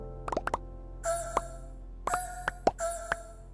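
A few quiet, bright Minecraft item drop and pickup pops and blips, some in quick pairs, others with short ringing tones, spaced across a soft background hum.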